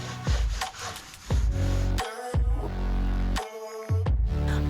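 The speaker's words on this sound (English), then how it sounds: "I wiped away the excess wax with a cloth" Cloth rubbing excess black wax off an old wooden chest, several loud close strokes of scrubbing friction separated by brief pauses.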